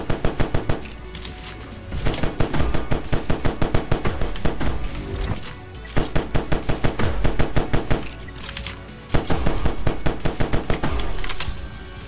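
Rapid automatic gunfire from a gun in the Roblox game Neon Knights, loud, dense bursts of sharp shots running almost nonstop with brief pauses, as if reloading, near 2, 6 and 9 seconds.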